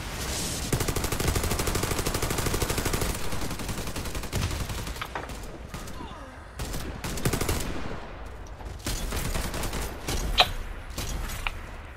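Sustained volleys of video-game gunfire in a Pripyat map, dense overlapping automatic shots for several seconds, then scattered single and short bursts with a few sharper louder cracks, no talk over it.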